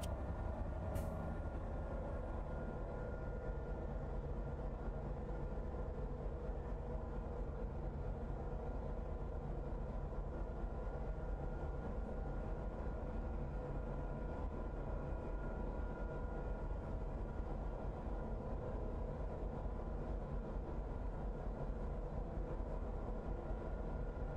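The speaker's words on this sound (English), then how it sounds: "An approaching train has been spotted." A train in the railway simulator game Train Life approaches with a steady, continuous rumble of wheels and engine that holds at an even level throughout, with no talking over it.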